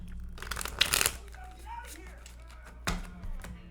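Two short bursts of tarot cards being shuffled close up, a riffling crackle then a quieter pass, with a voice talking softly in between.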